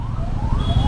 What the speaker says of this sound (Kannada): ಆಂಬುಲೆನ್ಸ್ ದಾರಿ ಮಾಡಿಕೊಡ್ರಿ ಅಣ್ಣ